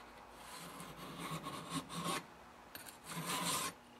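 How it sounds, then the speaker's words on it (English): A chainsaw file rasps back and forth across a metal key clamped in a vise, fitted for converting a small-engine crankshaft from 3/4 inch to 1 inch. Several close, rough strokes in two bursts, with no voices. "just file it a few times."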